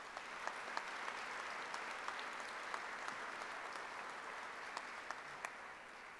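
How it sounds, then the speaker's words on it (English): Steady, fairly distant applause from the audience at a firefighter recruit class graduation ceremony, a continuous wash of many clapping hands with a few sharper individual claps standing out. "So let's give them a round of applause"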